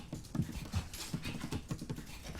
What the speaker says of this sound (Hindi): ये कैसा कुत्ता है, घर वालों पर ही भौंकता है।